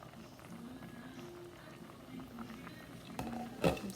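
Creole-style smothered chicken wing liquid boiling in a covered pot, a soft continuous bubbling and pattering, faint and close, ending with a couple of louder clanks.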